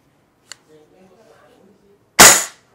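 A single airsoft rifle test shot fired in a testing area, a sharp loud burst that decays quickly, preceded by a faint click and quiet background murmur.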